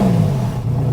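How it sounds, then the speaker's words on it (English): An older Porsche 911 with Tiptronic gearbox revs while warming up, a brief throaty engine note that rises then eases off, loud and close. "So do a couple more revs right here"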